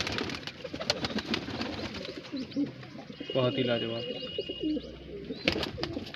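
Pigeons of a famous flying breed, kept in Bareilly, coo softly amid a busy backdrop, with someone talking over them and other voices nearby.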